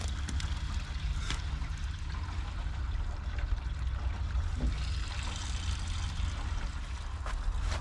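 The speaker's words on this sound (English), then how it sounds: "let it keep pouring fuel for now" Fuel pours and trickles steadily from a leaking line on an abandoned car, a continuous wet splashing with a low rumble underneath, no voices.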